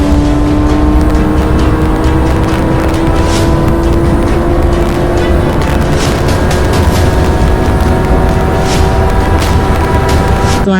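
A Kawasaki ZX10R superbike cruising on a highway, its engine droning loud and steady with a rising pitch as it holds speed, mixed with constant wind roar, no talking.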